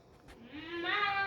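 A cat gives a single rising meow that swells in pitch and loudness over about a second, heard close and alone after a brief soft tap.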